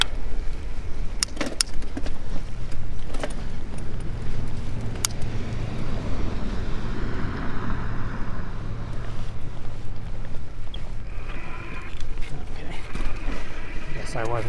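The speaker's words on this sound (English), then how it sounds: "Knobby tires on the Juliet, they make a lot of road noise" Knobby tires on an older Juliet ebike rolling over pavement, a continuous rumbling road noise with wind buffeting the microphone and a brief rattle, while someone talks over it.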